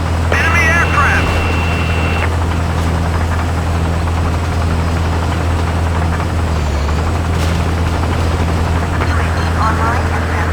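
In the Battlefield 2 video game, helicopter and aircraft engines drone steadily and loudly throughout, with mechanical whine and radio-style voice callouts layered over the engine noise.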